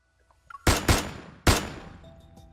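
Three sharp gunshots ring out in Love & DeepSpace, two close together and a third after a short pause, each loud and near with a fading echo tail.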